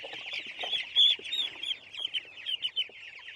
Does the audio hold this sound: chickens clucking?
yes